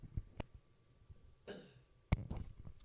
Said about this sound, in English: I had a soda burp